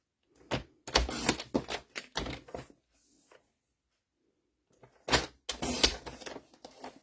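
Paper cut to size for a handmade Christmas mini album, heard as close, crisp bursts of slicing and scraping in short strokes, with a quiet pause between two groups of cuts.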